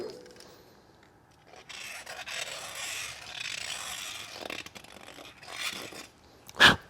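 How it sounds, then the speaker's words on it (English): A hand deburring tool or file scrapes the end of a metal gland follower from a steam roller, making a close, steady rasping rub for several seconds that swells in the middle and ends with a sharp clink. "In fact, we'll just deburr this end too."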